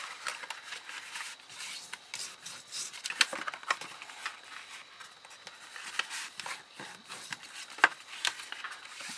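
Cardstock for a diamond-sided gift box is scored by hand with a stylus or tool, giving close, soft scratchy rubbing strokes with a few sharper ticks, steady and alone.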